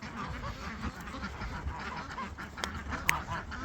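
Scattered honking and quacking calls from ducks and turkeys over a busy outdoor farm background, moderately close, with a few sharper squawks near the end.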